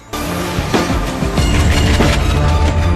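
A train rumbles loudly and continuously close by, with periodic heavy clanks and rattling cutting through the steady roar.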